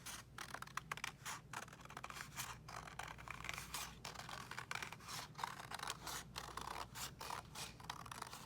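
Paper cut with scissors in a steady run of crisp, quiet snips and rustles, close by, with no voices.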